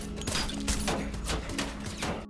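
Gunfire in a film scene where an attacker shoots at a man in a parking lot where a car bomb is planted: several sharp, loud shots in irregular quick succession over a dense, rumbling background, with no talk.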